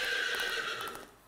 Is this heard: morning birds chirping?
no